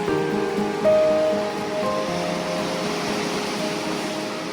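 A continuous wash of Atlantic Ocean surf rolls in the distance off Tenerife, steady and broad, with a faint tonal hum drifting over it early on.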